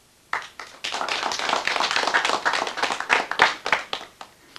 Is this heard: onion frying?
no